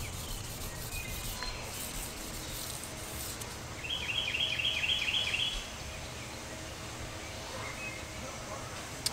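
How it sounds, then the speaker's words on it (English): Sandpaper works over an oxidized fiberglass boat hull in a steady, continuous rubbing hiss that swells louder for a couple of seconds midway and then eases off, close to the listener, with faint outdoor ambience behind it. "it depends on how much oxidation you have on your boat, according to how much you sand with either piece of sandpaper."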